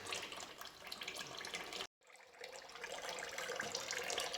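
Coolant drains slowly out of a car engine that has been losing coolant, a steady trickling splash that cuts out for a brief moment and then resumes, fairly close and without talk.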